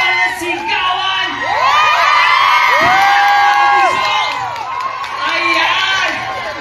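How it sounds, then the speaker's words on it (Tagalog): A large, loud crowd at a live celebration cheers, whoops and screams continuously, with many high children's and young voices shouting together in waves. "Isa pa lang, malakas na hiyawan at sigawan!"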